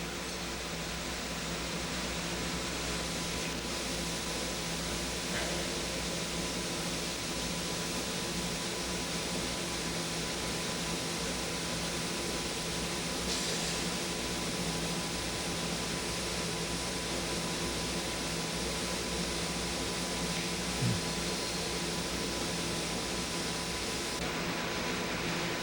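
A parchment paper winder runs in a mill with a constant, even mechanical hum and broadband hiss, a steady tone riding through it and only faint knocks breaking the drone.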